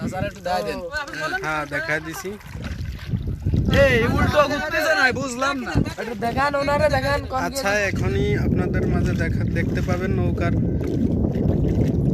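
Boat ride across Burol beel, a large wetland in Magura, Bangladesh, with thirteen people aboard one boat: a steady broadband rumble of the moving boat runs throughout, under several people talking loudly nearby.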